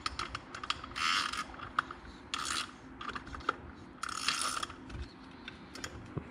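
A ratchet clicks in short bursts while tightening small fasteners on a Polaris RZR Turbo clutch, with metallic rasping and a few taps in between, close and fairly quiet, with no talking.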